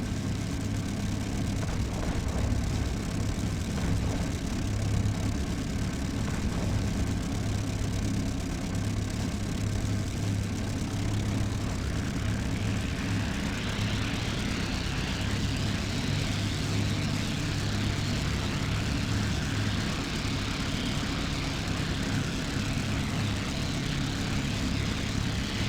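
A continuous loud aircraft engine drone runs steadily throughout a carrier-based flight game session, with a deep low rumble and broadband roar and no talk.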